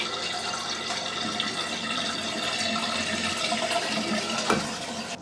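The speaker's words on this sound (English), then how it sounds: "using one of the buttons to press down on the flush mechanism to lower the water level" Water rushes and gurgles steadily as a toilet cistern with a Torbeck fill valve flushes and drains, a loud continuous drain close by.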